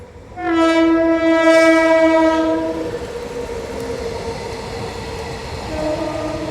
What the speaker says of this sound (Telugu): ప్రస్తుతానికి గూడ్స్ అయితే వెళ్తుంది.